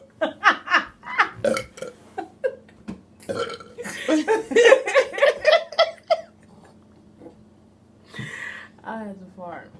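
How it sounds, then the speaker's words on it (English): Long, loud burps repeat through a burping challenge, guttural and drawn out, mixed with laughter and chatter between them, then a final burp after a pause. "That's my burp."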